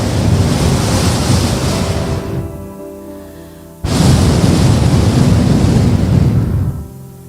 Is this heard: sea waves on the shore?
yes